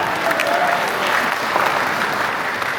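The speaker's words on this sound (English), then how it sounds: "You guys can clap?" A premiere-event audience in San Francisco bursts into steady, dense applause that fills the room evenly from start to finish, with no single clapper standing out.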